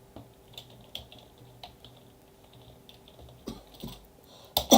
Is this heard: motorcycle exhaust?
no